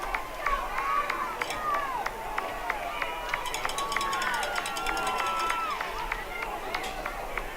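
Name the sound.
unhappy football crowd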